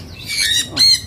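A bird gives two loud, harsh squawking calls in quick succession, close by, with no other sounds around.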